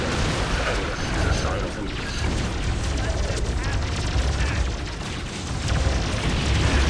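Ork tank busters fire in Dawn of War Soulstorm amid a heavy battle, a steady roar of booming explosions and gunfire that runs the whole time, while a commentator talks over it.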